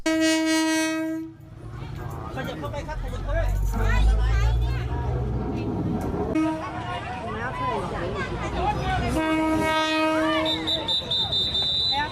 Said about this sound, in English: There's a train in Thailand that goes straight through a marketplace.